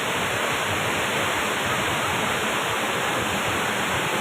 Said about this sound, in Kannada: ಹೊಗೇನಕಲ್ ಫಾಲ್ಸ್ ತಮಿಳ್ನಾಡು